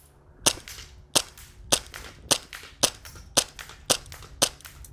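An airsoft gun fires on full auto outdoors, about 16 rounds a second, though the bursts come through as sharp, evenly spaced cracks roughly twice a second, loud and close with no talking.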